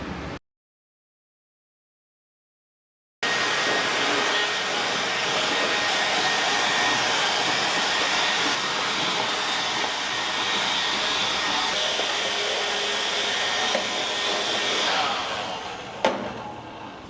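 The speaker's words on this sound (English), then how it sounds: "it's all planed and sanded. I had to use my hand planer" An electric hand planer runs steadily along a wooden truck bed, a loud, continuous whining roar that stays close and even for most of the clip, with a brief silent gap near the start and a sudden stop at the end.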